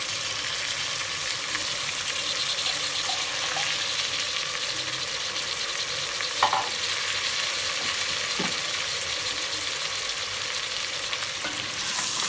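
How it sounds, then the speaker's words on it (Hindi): Chicken and spices fry in a pan with a steady, close sizzle throughout, broken by a few brief stirring scrapes and clicks, with no voices. "साथ साथ मसाले के चिकन भी फ्राई हो जाए अच्छे तरीके से"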